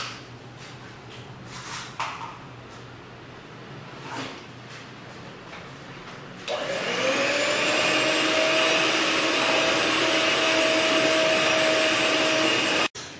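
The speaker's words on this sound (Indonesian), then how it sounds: "Kalau saya mau pakai pengocok adonan, karena ini nanti adonannya agak keras" Light clatter and knocks, then an electric dough mixer switches on, beating stiff dough for pempek, and runs with a loud, steady high-pitched motor whine until it cuts off.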